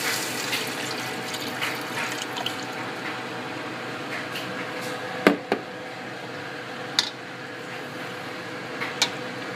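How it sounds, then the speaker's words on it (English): About two cups of beef stock pour into a pot of vegetables for beef stroganoff, a continuous soft liquid splashing and trickling with a few clinks, close and moderately quiet. "So we've got about 2 cups of beef stock. Go ahead and start adding that"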